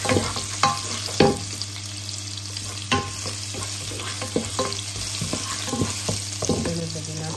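Ginger stir-frying in hot oil for a crab and shrimp curry, a steady bright sizzle with repeated scraping stirs and clinks of the utensil against the pan, close and continuous with no talking.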